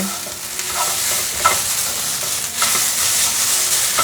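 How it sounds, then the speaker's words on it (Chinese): Shredded white radish, salted beforehand, is stir-fried with chopsticks in a pan for a vegan home-style dish, giving a steady close sizzle with light scraping and stirring clicks throughout. "我还是用筷子继续这样子拌炒，比较可以把调味料炒匀。"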